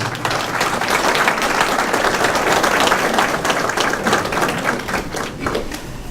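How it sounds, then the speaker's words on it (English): Sustained, loud applause from an audience honoring administrators and teachers at an educator appreciation luncheon held at a mosque, dense clapping continuing steadily for several seconds with no speech over it. "let's give a big round of applause to all of our administrators and teachers"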